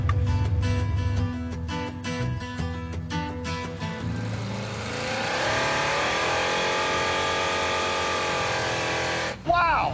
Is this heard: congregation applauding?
no